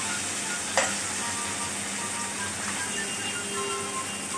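Chopped tomatoes and green chillies sizzle steadily in a hot pan for a paneer lababdar, a continuous close frying hiss with a brief sharp clink of a utensil early on and no talking.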